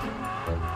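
Cars in the Car Parking Multiplayer game drive past on a road near Langkawi island, a steady engine rumble with a swelling pass-by near the middle, moderately loud and continuous, with no talk over it.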